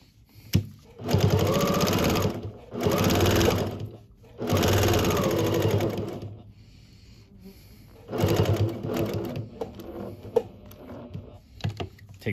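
Sewing machine stitching a fabric tab onto a kitchen towel, running in several bursts of a few seconds each with short pauses between, close and steady.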